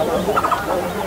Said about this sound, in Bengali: বসন্ত বাউরি, লিনিয়েটেড বারবেট